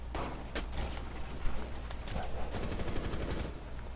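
Gunfire in the Rainbow Six Siege video game comes as rapid bursts of loud automatic shots that crackle at a fast steady rhythm. A denser volley follows over a continuous game background, with no talk.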